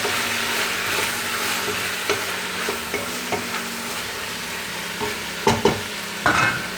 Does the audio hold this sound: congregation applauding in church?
no